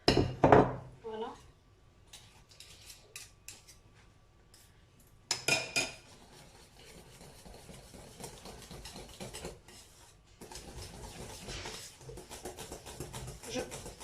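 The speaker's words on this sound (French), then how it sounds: "Je vais continuer comme ça, bien mélanger" A spoon stirs galette des rois batter in a bowl, with clinking and scraping strokes of utensil against the dish, loudest near the start and around five seconds, then steady softer mixing through the rest.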